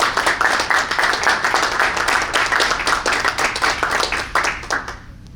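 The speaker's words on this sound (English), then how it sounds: "a round of applause for" Audience applause fills a school board of education meeting room in Baldwinsville, a steady, dense round of clapping that continues for several seconds before tapering off at the end.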